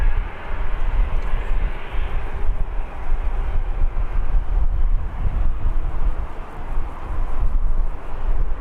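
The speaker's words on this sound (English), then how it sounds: "Do have an EasyJet making its way onto the runway now as well." An EasyJet airliner moves onto the runway at Birmingham Airport, its engines a loud, broad steady roar mixed with wind buffeting the microphone, no voices.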